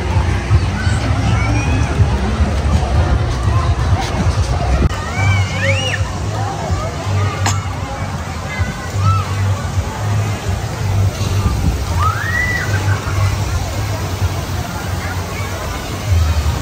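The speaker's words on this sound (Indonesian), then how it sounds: "Wah, ada ombaknya." Ocean waves wash onto a beach in Banyuwangi with a steady rushing roar of surf. Wind rumble runs underneath, and people talk and chatter in the background throughout.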